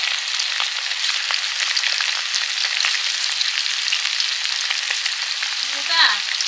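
Chicken pieces crackle in hot oil in a dense, even sizzle that holds steady throughout, close up, with a few faint clicks and a brief squeaky tone near the end, no talk.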